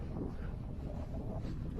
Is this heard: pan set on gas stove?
no